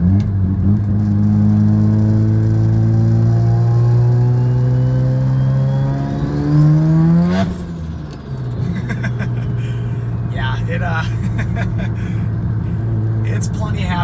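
A 1995 Mazda RX-7 FD rotary sports car accelerates hard into boost, its engine note climbing steadily in pitch for several seconds before a sharp shift, then pulling again; loud and close throughout.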